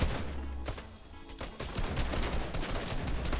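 Rapid bursts of Fortnite gunfire crackle repeatedly, sharp shots clustered in quick volleys with a continuous rumbling background.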